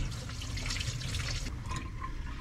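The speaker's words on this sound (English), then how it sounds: "Let me just wash them." Running water from a kitchen tap splashes steadily over fresh produce being washed at home, a continuous close hiss and patter with a slight shift in tone partway through.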